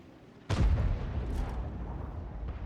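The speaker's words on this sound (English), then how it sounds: "Another nice shot there on the Tornwagen." A World of Tanks Crusader self-propelled gun fires an artillery shell: one sudden loud boom that rolls into a long rumbling tail, with no voices.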